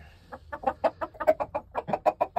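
Chickens clucking inside a backyard chicken coop, a close, busy string of short rhythmic clucks and squawks from several birds, steady and loud with no talking.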